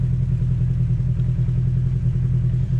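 A Polaris RZR side-by-side engine idles and rumbles steadily on a rocky trail, a loud, close, continuous low drone with no one talking.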